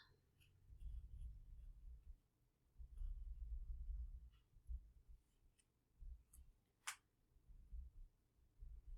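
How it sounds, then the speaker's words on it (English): Pen or pencil scratching across paper while graph axes are drawn, a steady series of soft strokes and scrapes up close, with no talking. "First step is to draw my axes because I don't have them"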